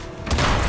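A single heavy shotgun blast booms suddenly and close, filling the moment in the Hitman Absolution video game.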